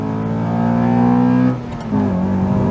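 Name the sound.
Honda Accord Type S CL9 K24 engine revving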